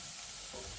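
Onions fry gently in a cast iron pan, giving a soft, continuous sizzle with a faint stirring scrape near the end, heard close up with no voices.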